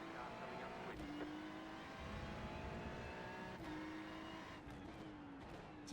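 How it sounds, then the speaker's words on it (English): A race car nears in an IMSA multiclass race at Interlagos in a racing game, engine drone steady and fairly faint, with a couple of gear shifts and another car whooshing past. "Last car coming up quick."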